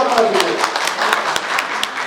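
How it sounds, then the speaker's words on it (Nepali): An audience claps to welcome a swami at a gathering, rapid, dense handclaps sounding close and loud throughout. "तपाईँहरू सबैले स्वामीज्यूलाई ताली बजाएर अभिनन्दन गर्न आग्रह गर्न चाहन्छु।"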